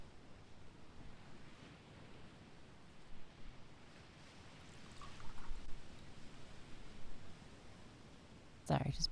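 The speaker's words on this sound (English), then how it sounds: "Sorry, just pouring a little tea for myself." Tea poured into a cup gives a steady, close, rushing trickle for about nine seconds, swelling slightly midway, then a brief sharper clatter at the very end.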